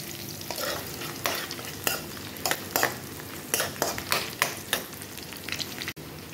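Garlic and ginger sautéing in a hot pan for chicken-feet adobo, a steady close sizzle broken by repeated scraping stirs of a spoon against the pan.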